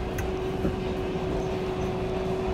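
Steady low rumble inside a moving PATH subway train heading to New York, with a constant electrical hum and occasional faint clanks.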